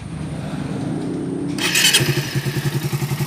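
A Suzuki Raider 150 motorcycle engine, formerly very noisy, idles steadily with an even, smooth pulsing rhythm, close by, no voices over it.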